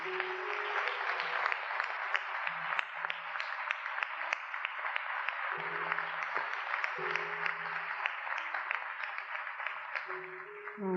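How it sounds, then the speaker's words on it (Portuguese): A Catholic congregation applauds the Gospel reading at Mass, steady dense clapping from many hands sustained for about ten seconds, with faint tones from an organ or keyboard underneath. "Nós podemos aplaudir a palavra de Deus."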